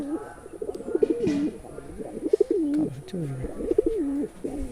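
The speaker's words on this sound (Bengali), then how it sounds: "আমাদের সবগুলো কবুতর ওই জায়গাতে চড়ছে দেখা" Pigeons cooing close by in repeated rolling calls, several coos in a steady rhythm, loud and clear with light background noise.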